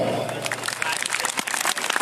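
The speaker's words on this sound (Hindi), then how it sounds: "एक बार अपने लिए जोरदार तालियां।" An audience claps at a live Channi Mastani orchestra party, with scattered crackling applause running beneath a voice speaking over a loudspeaker.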